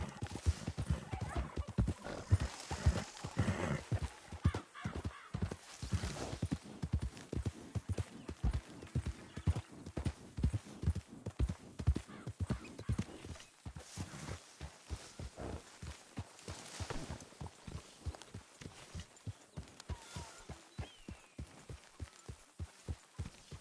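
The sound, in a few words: horse galloping in a video game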